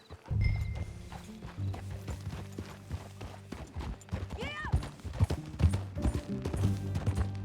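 Horse hooves clip-clop along a path in Red Dead Redemption 2, a steady rhythmic gait with a brief whinny partway through, set against a low musical bed with no talk.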